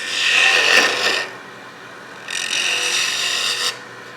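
A spindle gouge cutting into wood spinning on a lathe, two close, loud bursts of hissing, rasping shavings separated by a quieter pause with the lathe humming beneath.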